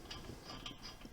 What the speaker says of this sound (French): ensuite visser la deuxième noix de roue